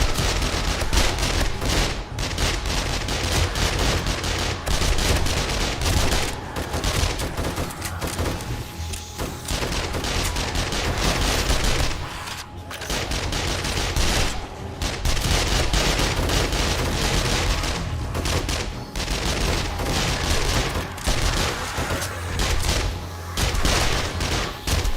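Sustained video game gunfire from an AK-47, a fast, loud fusillade of rapid shots that runs nearly nonstop for twenty-five seconds, with a couple of short pauses between bursts.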